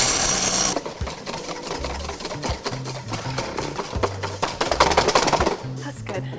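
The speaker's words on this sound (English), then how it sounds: "I'm gonna grind some coffee." A coffee grinder whirs steadily through beans in a busy kitchen, making a continuous buzzing, rattling grind mixed with clatter and background music while people talk nearby.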